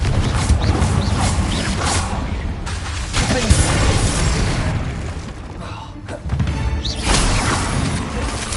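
Game audio from a Hogwarts video game carries a Confringo explosion spell in a dense, continuous crash of booms and creaking mechanical clatter. Several loud bursts hit in succession with brief dips between them, and a voice is faintly audible under the din.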